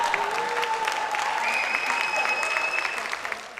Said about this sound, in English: A big round of applause for Zoya.